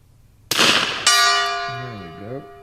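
A suppressed rifle fires with a sharp muffled crack, followed a split second later by the bullet striking a steel gong, which rings out with a bright, sustained metallic tone that slowly decays; a voice murmurs briefly near the end.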